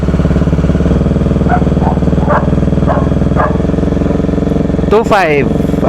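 A Bajaj Dominar 400 UG motorcycle engine runs loud and close, its steady throb rising toward 2000 RPM, with a sharp rattling burst near the end and people speaking over it.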